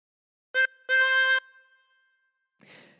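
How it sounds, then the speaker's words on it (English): Two blow notes on hole 7 of a harmonica, a brief one followed by a longer held one, close and clear, then a soft breathy noise at the end. "And blow into 7 twice."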